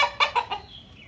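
A hen clucks in a quick run of four or five sharp notes, then trails off into quiet, close and clear.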